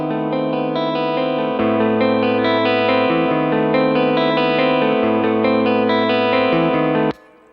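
Electric guitar with active EMG pickups played on a clean amp channel, a steady, loud chord pattern with bass notes shifting every second or so, ringing alone with no talk before cutting off abruptly.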